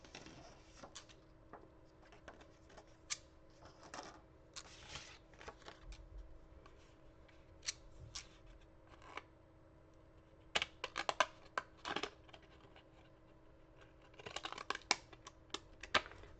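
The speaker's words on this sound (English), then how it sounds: "I want to use my cool scissors for this part." Decorative scissors snipping paper for junk journaling, many quiet crisp cuts and paper rustles in irregular bursts, close but soft, with denser cutting near the end.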